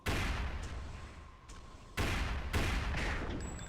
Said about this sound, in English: He can just hit 2 rifles here.